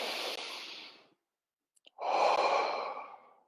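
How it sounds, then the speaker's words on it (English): Two slow, deep breaths during a guided meditation: a long exhale fades out, then after a short silence a full, steady inhale-exhale rises and trails off, close and alone. "First deep breath."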